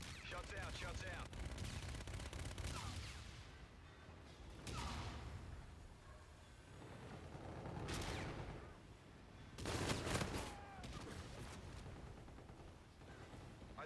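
Gunfire in Call of Duty: Infinite Warfare, several bursts of rapid shots spaced across the span, loud and close, with faint game sounds between them.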